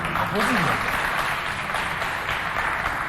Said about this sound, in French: on l'applaudit encore bien fort pour la raccompagner